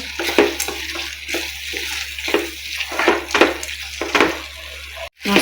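Ground masala mixed with salt sautéing in hot oil for a tangy tomato vatha kuzhambu, a busy sizzle broken by repeated scraping stirs, ending in a sudden cut.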